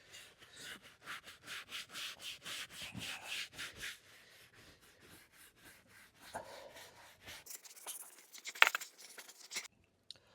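A brush scrubs a car's leather seat with diluted cleaner in quick, rhythmic back-and-forth strokes, close and fairly soft, then slows into scattered rubs and a few sharper scrapes before stopping.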